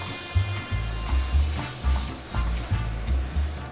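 A flipped steak sears in a hot pan with a steady close sizzle, broken by rhythmic scraping and rubbing pulses every half second or so.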